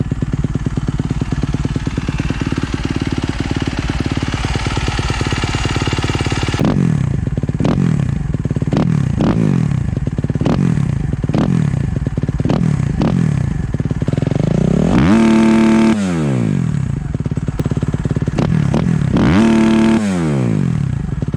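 A 2017 Suzuki RMZ 250 dirt bike with a full titanium exhaust idles loud and close, then barks through a series of sharp throttle blips and revs that rise and fall repeatedly.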